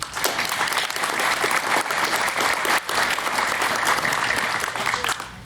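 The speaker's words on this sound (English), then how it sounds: "I know we're clapping all the time." An audience at a homelessness event claps steadily in a full round of applause, close and continuous with no speech over it.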